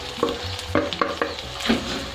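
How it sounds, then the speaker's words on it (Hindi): Fried okra tipped into a pan of frying onion, ginger and garlic for masala bhindi, giving a steady close sizzle with several soft stirring scrapes and clatters against the pan, no talk. "अब मैंने जो भिंडी फ्राई की थी वो इसी में डाल देंगे हम।"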